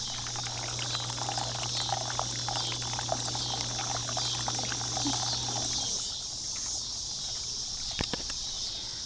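Steady trickling water from a small fountain in a cottage garden, continuous and close, with insects droning in the background; the low hum drops away partway through.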